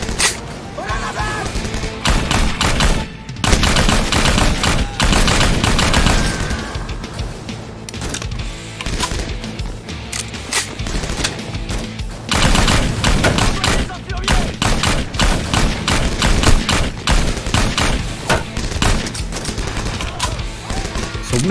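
Rapid, sustained automatic gunfire from an infinite-ammo gun in a Vietnamese war video game set at the Battle of Dien Bien Phu, loud and continuous bursts filling the whole stretch with brief gaps.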